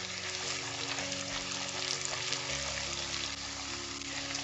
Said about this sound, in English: I'm gonna saute this for 1 minute with everything.